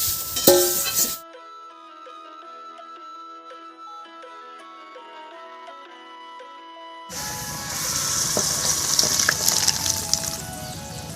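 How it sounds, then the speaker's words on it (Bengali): Parshe fish cooking in a tamarind gravy with radish hiss briefly at first, then a stretch of music, then a loud, busy sizzle and bubbling. "পার্শে মাছগুলো এর মধ্যে ঢেলে দিলাম"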